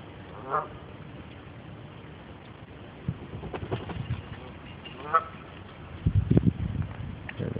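Canada geese honk now and then during spring migration, their calls spread out and moderately distant over a steady outdoor background, with a burst of closer rustling and calls near the end.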